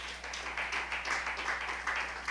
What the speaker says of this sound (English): Clap your hand if you understand that.